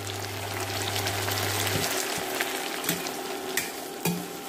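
Banana flower and rice mixture sautéing in a pan, a steady close stir-fry sizzle with scraping stir strokes and a few sharp clinks of the spoon against the pan, no talk.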